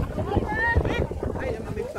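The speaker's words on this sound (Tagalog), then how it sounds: "Lumakas ang hangin guys." Gusty wind buffets the microphone with low rumbling noise while people talk over it, outdoors at Kadoorie Farm in Tai Po, Hong Kong.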